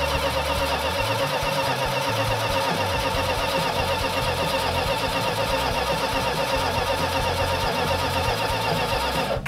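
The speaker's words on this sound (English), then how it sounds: "we've got a tappet that's making noise, or some kind of metallic noise that sounds like a tappet" A Mopar V8 engine, apparently from a Charger or Cuda build, runs steadily up close with a persistent metallic ticking like a noisy tappet and a hissing vacuum leak, with low rumbling throughout and no talking.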